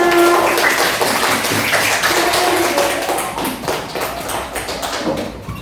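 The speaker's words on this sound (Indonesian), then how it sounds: "Oke, tepuk tangan untuk kita semua." A classroom of students claps hands together for everyone, a dense, steady patter of many hands at close range that gradually thins and softens toward the end.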